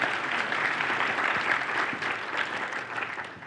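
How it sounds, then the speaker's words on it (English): Audience applause at a React custom hooks conference talk, a steady burst of clapping from a crowd lasting a few seconds, dense and even without any voices over it. "That's when everybody claps."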